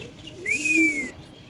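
A large black Lahori pigeon gives a single short coo, close and fairly clear against faint background noise.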